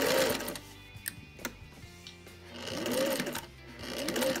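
A Singer 600E sewing machine runs in quick, steady bursts, its close mechanical whirr rising, pausing and picking up again as it stitches fabric, with no one talking over it.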